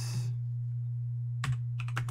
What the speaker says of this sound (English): is typing it inside the chat here for you guys.